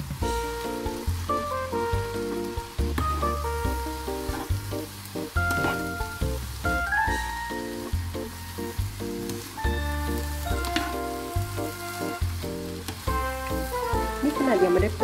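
Spring roll filling with glass noodles stir-fried in fresh butter sizzles steadily in a pan, a continuous frying hiss under prominent background music and occasional talk.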